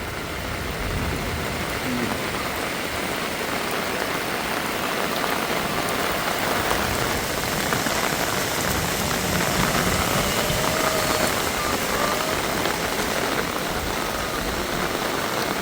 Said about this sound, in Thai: ดูท่านผู้ชมฝนตกนะตอนนี้